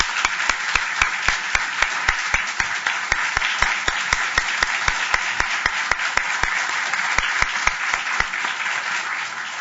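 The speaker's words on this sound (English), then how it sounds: "I hope you'll join me in a round of applause to thank him for putting on this lecture" A lecture audience applauds to thank the host, a sustained, even roll of clapping with crisp individual hand strikes standing out near the microphone, continuing steadily for nearly ten seconds.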